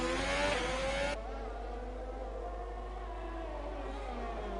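An F1 race car in a PS4 racing game on the Azerbaijan circuit: a loud, sustained high engine whine with strong harmonic tones that drops sharply in level after about a second and carries on more quietly.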